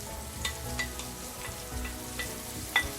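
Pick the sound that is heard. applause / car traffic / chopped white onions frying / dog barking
chopped white onions frying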